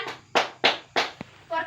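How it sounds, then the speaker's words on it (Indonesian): A classroom group clapping in a short rhythmic pattern, four sharp bursts of claps close together, followed by a brief voice. "Bagus, tepuk tangan Pak Taman."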